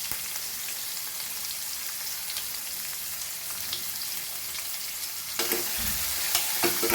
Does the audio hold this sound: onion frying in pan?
yes